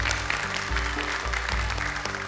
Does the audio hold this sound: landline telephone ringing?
no